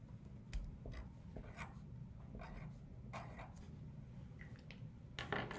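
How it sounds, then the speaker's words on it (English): Pen or pencil writing a word on a new sheet of paper, faint scratchy strokes in short irregular bursts with small pauses, close and quiet. "Write this word on a new piece of paper."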